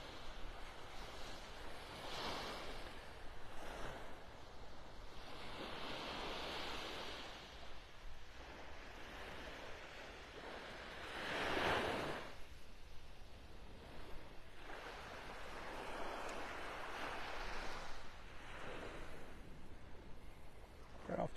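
Gentle ocean waves break on Vanderbilt Beach in North Naples, Florida, soft surges rolling in every few seconds with one fuller wash midway, mixed with light wind rumble on the microphone.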